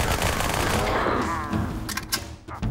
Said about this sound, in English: There's the battle rifle, right?